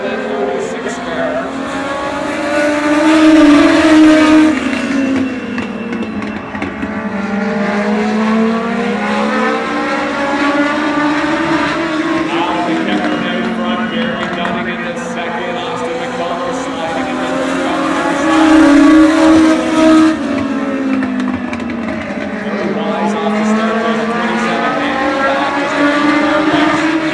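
Stock race cars roar around the oval at Oyster Bed Speedway, engines rising and falling in repeated waves as the pack passes, loud and continuous, with a commentator talking over the racing.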